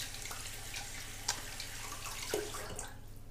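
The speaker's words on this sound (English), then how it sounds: "I always rinse my hands after using this" Running tap water splashing steadily as hands are rinsed after shaving, a continuous moderate wash with a couple of faint drips and clinks near the end.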